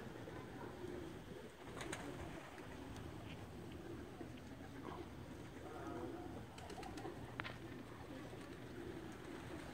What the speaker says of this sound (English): Stock of birds coming out. Look at them homers.